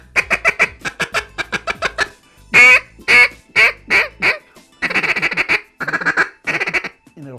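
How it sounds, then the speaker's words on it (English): A Buck Gardner SBT Spitfire duck call is blown in a feed-calling demo, giving rapid runs of short clucking quacks and a few longer honking notes, close and clear with brief pauses between sequences. "you want a duck call that'll feed call easy, pecking or clucking or rolling feed call"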